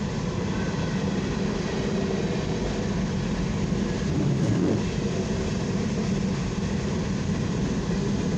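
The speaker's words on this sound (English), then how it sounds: "Yep, this is an eastbound coal train." A CSX eastbound coal hopper train passes the Main Street crossing in Hoytville, Ohio, on a rainy late afternoon, giving a steady, loud, broadband rumble and roar of wheels and cars that holds evenly throughout.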